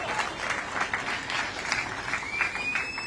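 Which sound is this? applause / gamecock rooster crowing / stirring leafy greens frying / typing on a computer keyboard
applause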